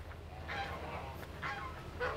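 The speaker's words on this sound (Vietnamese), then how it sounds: "ngỗng, ngỗng." Geese honking at an eco-style garden cafe near Buu Long, a few distinct honks at moderate distance over steady outdoor background noise.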